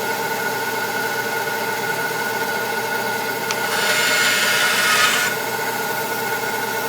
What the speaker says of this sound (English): And now the next cut, we're going to leave it about an 1/8 inch long and